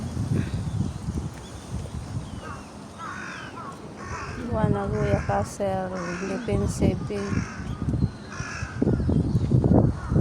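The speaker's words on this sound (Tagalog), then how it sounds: "Kaya may uwak dun sa taas, oh." Crows caw in a run of harsh repeated calls amid outdoor noise at Nagoya Castle in Japan, while a person talks over them.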